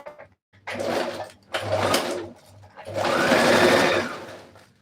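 A sewing machine stitches a shirt dress seam in several bursts of rapid mechanical whirring separated by short pauses, loud and close.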